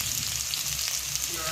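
Potato pieces frying in a pan, a steady close sizzle with a faint stirring scrape, short and unbroken.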